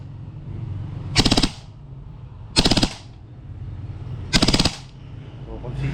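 Daniel Defense RIS III airsoft rifle firing three short full-auto bursts, each a rapid rattling string of shots, close and loud over a steady low hum of background noise.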